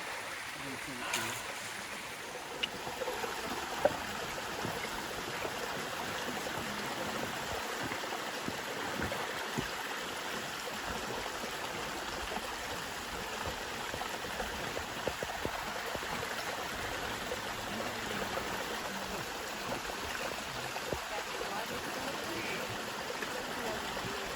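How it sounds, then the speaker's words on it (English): Groundwater spring water trickling and flowing at Smith Springs along the base of the Guadalupe Mountains, a steady soft wash heard from close by, with voices murmuring faintly at times. "Groundwater springs to the surface along the southeast base of the Guadalupe Mountains"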